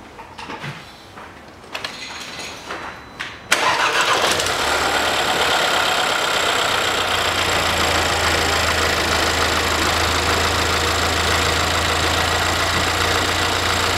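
A Mercedes-Benz GLA 200 with a 2.0-litre engine cranks briefly and fires up, then settles into a loud, steady idle that hums on without change, preceded by some quiet clicks and handling sounds.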